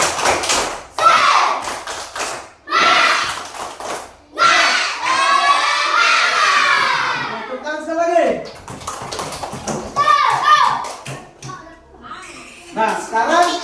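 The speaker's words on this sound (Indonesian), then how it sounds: "Coba ya, tepuk semangat." A class of young primary-school children perform a rhythmic spirit clap, sharp patterned claps mixed with loud chanting and shouting voices, close and lively throughout.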